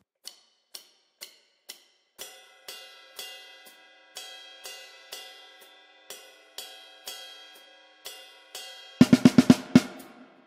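Metronome clicking steadily at 123 beats per minute, sharp evenly spaced ticks heard alone, with a louder burst of drum or cymbal hits near the end.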